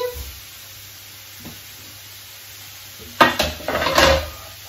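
Courgettes, onions and garlic tipped into a pan, a quiet hiss followed by a clatter of vegetables and utensil against the pan and a rising sizzle over the last second and a half, close and fairly loud.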